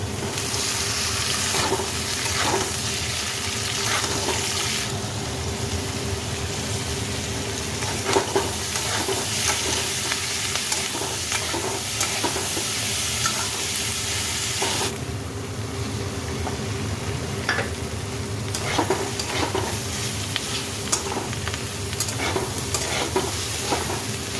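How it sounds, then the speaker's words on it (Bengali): Capsicum being stir-fried with potatoes and peanuts in a pan, a steady close sizzle with frequent scraping and clattering stirs of a spatula throughout. "আলুটা অনেকটা ভাজা হয়ে গেছে, এবার দিয়ে দিচ্ছি ক্যাপসিকাম।"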